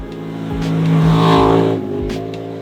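Triumph TR7 V8 historic rally car engine revs loudly nearby, a deep V8 rumble climbing to a sustained roar and then dropping back with a few sharp blips, with no voices.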